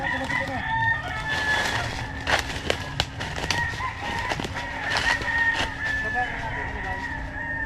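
Chickens cluck and a rooster crows near a henhouse, several crows and clucks repeating at moderate distance while people talk over them.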